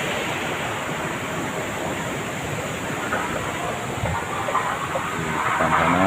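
River water rushes past near the Nambo dam, which is under repair, in a steady, loud, broadband roar that stays continuous throughout with no voices.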